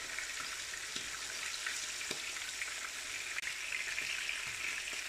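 Pork cheeks sear in a hot pan with a steady, close sizzle and hiss, broken by a few soft clinks and taps of turning the meat. No one speaks.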